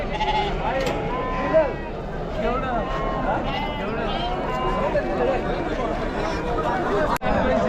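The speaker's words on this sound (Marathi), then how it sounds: "मेंढ्यांची आवक पाहू शकाल मित्रांनो" Sheep bleat repeatedly amid a busy, crowded goat and sheep market in Chakan, Maharashtra, with steady chatter and voices talking throughout.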